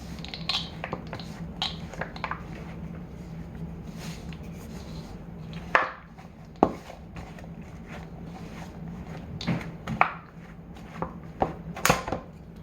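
A spoon stirs thick homemade chocolate chip cookie dough, giving irregular soft scrapes and dull knocks against the bowl with a few sharper clicks, close by and with no talk.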